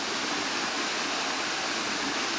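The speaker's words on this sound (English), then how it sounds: "Oh, we have to go beyond the waterfall." Broadband rushing of a waterfall in St. Vincent and the Grenadines, a steady, loud, continuous roar with no let-up and no voices over it.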